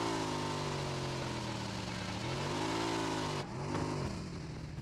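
A motorcycle engine in the PUBG Mobile game drones steadily throughout, its pitch rising and falling as it revs. It stays loud and continuous, and there is a brief dip near the end.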